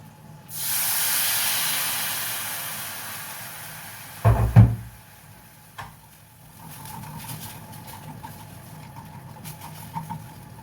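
Water poured into a hot pan to deglaze the fond left from braised beef, giving a loud sustained hiss that rises suddenly and holds, followed by sharper sizzling bursts and a settling, quieter crackle.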